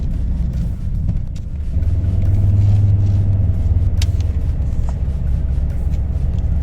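A 2003 Lancia Thesis cruises at steady speed under cruise control, its cabin filled with continuous low engine and road rumble that swells slightly midway, loud and close.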